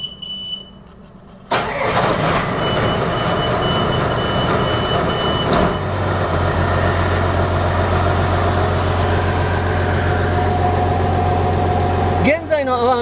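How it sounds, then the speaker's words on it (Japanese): A Yanmar ZD34 boat engine cranks and catches, then settles into a steady, loud diesel idle close by, with a brief clunk near the end. "それではエンジンをかけてみましょう。"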